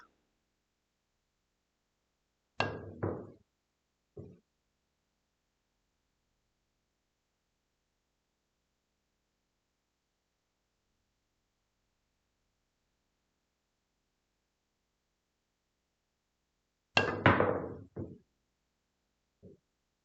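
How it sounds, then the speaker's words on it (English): A pool cue fitted with a Taom Fusion tip strikes a cue ball several times from soft to hard. The crisp, close clicks are separated by long silences, with two louder strikes standing out. "I'm just going to hit this cue ball a few times, basically soft, medium, and hard"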